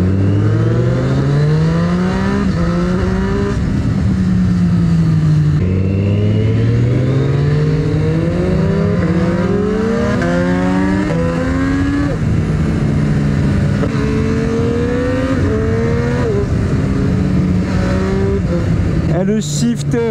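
Triumph Street Triple 765 RS motorcycle with shifter and aftermarket silencier, engine revving repeatedly through rising gears in sweeping climbs, loud and close, with riders talking over it.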